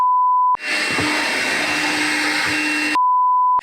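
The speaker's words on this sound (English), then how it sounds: "I'm going to just see if I can try and reset the controller after I vacuum up all this sand" A vacuum cleaner sucking up sand on a 4WD fishing trip at North Lefroy, Western Australia, runs as a loud, steady, hissing roar close by, with gritty rattles as grains are pulled in.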